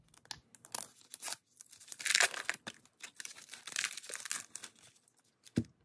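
Plastic wrapping on a passport-size notebook crinkles and tears as it is pulled open, a close, irregular series of crackling rustles and sharp snaps with short pauses, no voices.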